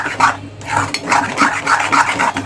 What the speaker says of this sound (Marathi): असा हलवतच राहायचा आहे थोडा वेळ